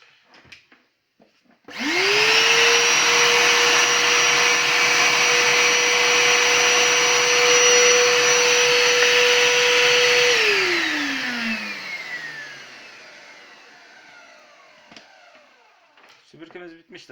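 A repaired Rowenta vacuum cleaner motor whines up sharply, holds a loud steady high-pitched roar for about eight seconds, then spins down gradually as it is switched off, with faint handling noises before and after.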